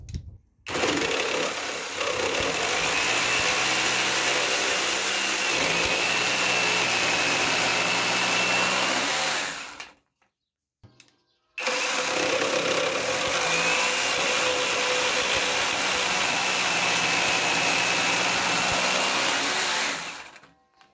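A cordless Parkside PSSPA 20-Li A1 jigsaw with a long blade makes a deep cut of about 12 cm, buzzing loudly and steadily for around nine seconds, then falling silent before a second, equally steady run.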